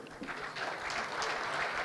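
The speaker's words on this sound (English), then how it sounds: "If we can hear for them a round of applause" Conference audience in Kuwait applauding sponsors at a flow measurement technology event, a steady wash of many hands clapping at moderate distance that swells slightly and holds for the whole stretch.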